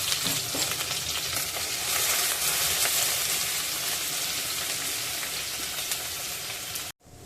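A medium-sized onion frying in hot oil in a pan, stirred until golden brown, gives a steady, dense sizzle close by that runs unbroken for about seven seconds and then stops abruptly.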